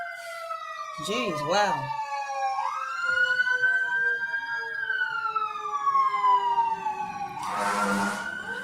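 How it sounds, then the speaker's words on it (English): A fire truck siren wails as it passes, starting with a fast rising-and-falling yelp, then a long sweeping tone that rises and falls slowly and ends in a loud blast of noise, while voices react briefly. "I rarely get fire trucks."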